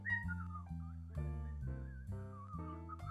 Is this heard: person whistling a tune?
yes